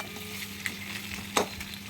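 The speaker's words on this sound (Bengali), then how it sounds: "এটা একটু হালকা 1 মিনিট মতো একটু নাড়াচাড়া করে নেবো" Maggi noodles with soy sauce being stir-fried in a pan: a soft steady sizzle with occasional scraping clicks of the spatula, fairly quiet and close, no voices.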